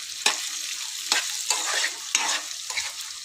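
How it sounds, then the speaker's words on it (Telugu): Beetroot fries in oil in a pan, a steady sizzle broken by four or five sharp scraping stirs of a spatula spaced about half a second to a second apart, close and fairly loud with no voices. "ఆయిల్లో మంచిగా వేగుతుంది."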